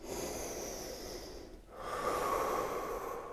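Slow, close breathing during a yoga stretch toward a wall: one long airy exhale, a brief pause, then a second steady breath, quiet and alone.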